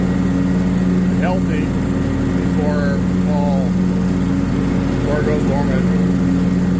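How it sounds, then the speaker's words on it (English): A lawn mower cuts grass on a farm lawn in September with a steady engine drone throughout, while a person talks over it. "And I'm mowing this down so I get some more water on it."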